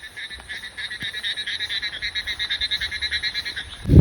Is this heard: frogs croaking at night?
yes